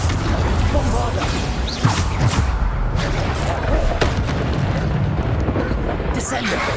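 Spell blasts from Bombarda and other combat spells in Hogwarts Legacy, a dense run of booming explosive bursts and crashes over busy game noise, with voices calling out throughout.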